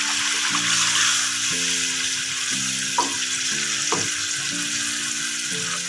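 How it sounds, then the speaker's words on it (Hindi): Sliced potatoes fry in a pan as chutney is stirred in, giving a loud, steady sizzle and hiss close by, with a few soft stirring knocks and a faint background hum. "इसके बाद हम इसके अंदर चटनी ऐड कर देंगे। इसको भी हमें अच्छे तरीके से इसमें मिक्स कर लेंगे।"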